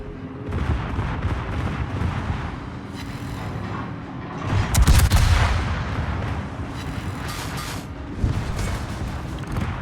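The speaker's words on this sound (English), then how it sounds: "There goes the secondary batteries at least." Battleship secondary batteries firing in World of Warships, a dense rolling barrage of booming gunfire and mechanical clatter that peaks in a loud burst mid-way, with no talk over it.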